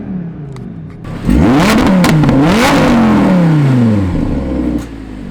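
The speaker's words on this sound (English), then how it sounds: "let's get one more little baby rev" A supercar engine revs hard from idle, climbing in a loud sustained howl that swells and falls back over several seconds before settling, close by with no talking.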